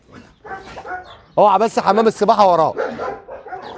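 A dog barks loudly in short, sharp bursts close by, mixed in with people talking throughout.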